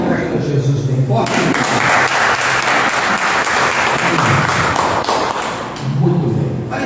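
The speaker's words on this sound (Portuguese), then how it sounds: "Você pode aplaudir a Jesus bem forte." Loud, sustained applause from a church congregation during a worship service, dense clapping filling several seconds with a low murmur of voices and a thudding beat underneath.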